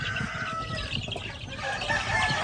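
Heritage breed chickens on a farm cluck and crow together in a steady, busy flock chorus with no talking.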